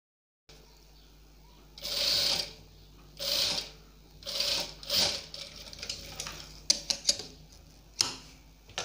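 A sewing machine stitches gota trim onto a kurti in short bursts of rapid whirring, several runs separated by pauses, with light clicks and handling noises between them.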